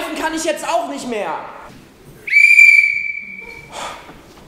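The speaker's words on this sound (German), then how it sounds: "Der Pfiff, der kommt von der neuen Zahnlücke." A high, piercing whistle squeaks through a freshly opened gap in the front teeth, a single sustained tone held for about a second, following a stretch of talking and a breathy exhale.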